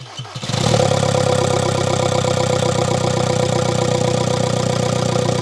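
A TDI diesel car engine on a jack cranks briefly and catches, then settles into a loud, steady, clattering diesel idle close by.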